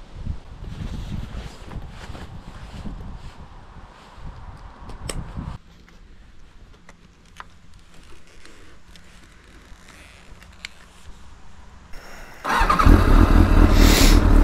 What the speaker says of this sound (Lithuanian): Tai važiuosim su perdarytu senoviniu motociklu.